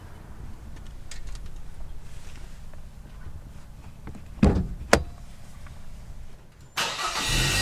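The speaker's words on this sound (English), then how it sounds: "Let's go ahead and pop the hood." A 2017 Toyota Yaris iA hood is popped open: two sharp mechanical clunks from the release latch come in quick succession over quiet background noise, followed by a brief burst of rustling as the hood is handled.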